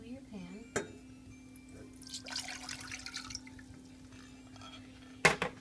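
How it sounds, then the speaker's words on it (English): Water poured into a pan while making cream puffs in a home kitchen: a soft splashing rush that lasts about a second, with faint clinks and small knocks before and after, over a steady low background hum. "So what you do first is you add the water to your pan"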